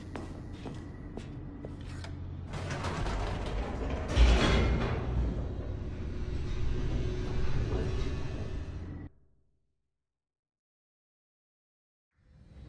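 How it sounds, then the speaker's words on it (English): Elevator plummeting downward in The Stanley Parable, a rumbling mechanical drone with creaks and a heavier thud partway through, which cuts off abruptly into silence before a faint return at the very end. "The elevator raced downward, plummeting towards an unknown fate."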